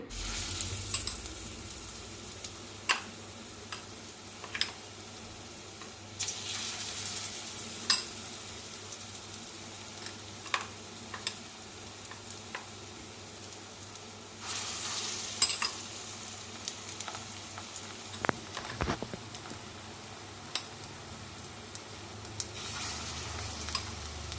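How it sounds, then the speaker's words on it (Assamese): Kofta balls coated in gram flour batter fry in a kadai with a steady, close hiss of sizzling oil, broken by occasional louder bursts and stirring clinks, with no talk. "এতিয়া এইখিনি মই কোফ্তাখিনি বেচনত লগাই ভাজিম।"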